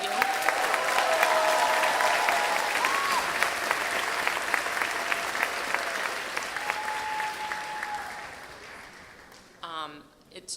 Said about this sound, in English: can we just have one more round of applause for all of you?